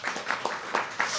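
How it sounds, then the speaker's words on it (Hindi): An audience at a live poetry open mic at The Habitat claps in a brief, thin round, with a handful of separate claps close by that quickly trail off. "ज़ोरदार ताली वापस"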